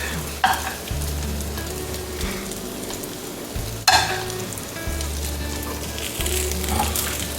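Peppers sizzle and crackle in a hot pan as they are stirred in, a steady close frying hiss with sharp spatters and scraping touches throughout.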